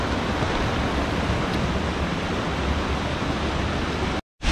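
Waterfall crashing at its base inside a river canyon, with the river running close by: a loud, steady broadband roar that holds constant, broken only by a brief dropout near the end.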